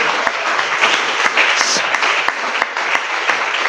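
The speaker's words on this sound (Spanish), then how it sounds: "Dele un aplauso al Señor, hermanos." Church congregation applauding: steady, dense clapping from a crowd of worshippers, close and loud, with a few sharper individual claps standing out throughout.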